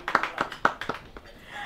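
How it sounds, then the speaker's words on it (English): A few people clap in short sparse bursts, roughly six or seven sharp claps close by that quickly taper off. "Clap."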